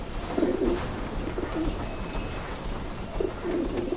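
Pigeons coo in a video game scene from Alice: Madness Returns, with soft repeated cooing phrases near the start, middle and end over a steady background ambience.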